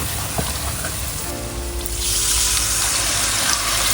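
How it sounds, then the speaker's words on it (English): Tamarind water pouring into a spice paste for mee siam, a splashing gush that starts midway and grows louder, running steadily and close with no talk. "you can put in the tamarind water"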